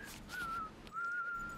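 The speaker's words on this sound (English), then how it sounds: "I find it soothing to whistle the A-Team theme song" A person whistles the A-Team theme song while hiking in bear country, producing two clear sustained melodic phrases, close and fairly quiet, with a short pause between them and no talking.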